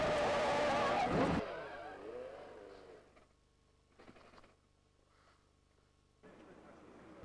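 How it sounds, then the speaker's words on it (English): A Grand Prix race car with a 180 mph top speed spins out on track: a loud engine and tyre screech for over a second, then dropping to a quieter rumble with faint bursts. "The spin has destroyed Mark's chance of hitting 1 minute 50 in his closing laps"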